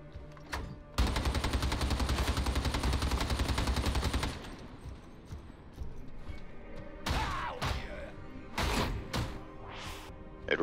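An Ogryn stubber heavy gun in Warhammer 40K: Darktide fires a long, loud sustained automatic burst of about three seconds, followed by sporadic single shots and impacts, with no talking.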